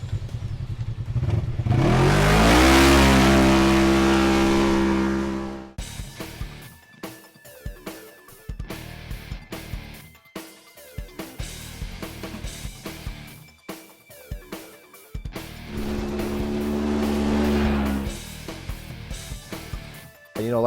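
A Polaris RZR side-by-side at the ERX racetrack revs hard in two long roaring bursts, with a stretch of choppy, stuttering engine blips and clatter between them, fairly close.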